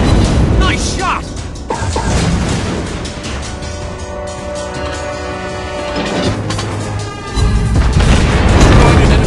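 Explosions hitting an enemy ship in World of Warships Blitz: heavy booming blasts with crackling debris, a loud burst near the start and another swelling near the end, over continuous battle rumble and brief game voice lines.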